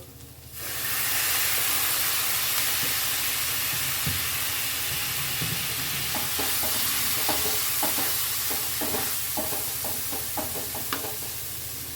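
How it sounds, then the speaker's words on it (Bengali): Ground spices with Kashmiri chili powder and coriander powder sizzle and fry in a pan after a splash of hot water, a loud steady hiss with scattered stirring scrapes and pops for a rosogolla curry. "এগুলো দিয়ে একটু গরম জল দিয়ে কষবো"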